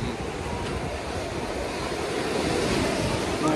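Ocean waves at Tiruchendur beach roar in a dense, continuous wash, loud and close, with wind buffeting the microphone throughout.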